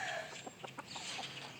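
A rooster gives a few soft, quick clucks close by, faint against a quiet background hiss.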